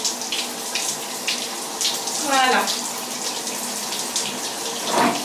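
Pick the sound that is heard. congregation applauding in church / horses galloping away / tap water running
tap water running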